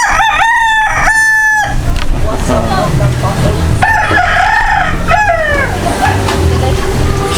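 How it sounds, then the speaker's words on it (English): Roosters at a seaside spot in Davao crowing loudly and close, with two quick crows at the start and more overlapping crows later, all over a steady background of outdoor noise. "Roosters, as always."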